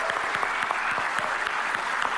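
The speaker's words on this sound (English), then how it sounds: "we wanted to ask everyone here to give yourselves a round of applause" An audience applauds, a dense steady wash of clapping hands throughout with no pauses.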